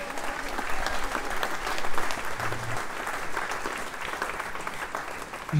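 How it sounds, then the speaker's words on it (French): A crowd claps steadily to encourage a speaker at the Golden Globe Race 2022 prize giving, an even, moderately loud patter of many hands that continues throughout. "Quelques applaudissements pour l'encourager s'il vous plaît."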